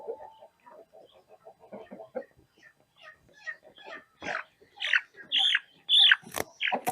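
A flock of young hens and roosters clucks and squawks in short, overlapping bursts in a poultry yard, growing louder and busier toward the end.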